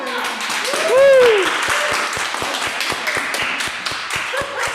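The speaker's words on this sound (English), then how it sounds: "So many applause." Applause during an online club meeting, with scattered sharp claps from several participants over a continuous background and a brief voice rising in the middle.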